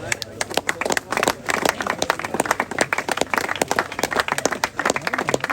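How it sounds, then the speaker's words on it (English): Crowd applause and scattered clapping at a downhill skateboard Southern Championship podium for the silver and gold winners, dense and steady, with voices talking and cheering through it. "Applause, because these are also our silver and gold winners"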